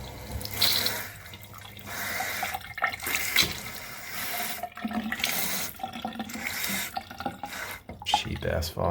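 Delta bathroom faucet at a vanity sink, water running and splashing steadily for several seconds, close by, with a voice talking faintly in the background.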